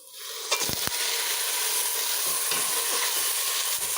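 Loud, steady sizzling of browned chicken frying in a hot pan for chicken kabsa, with a few scraping stirs and clacks of a utensil near the start.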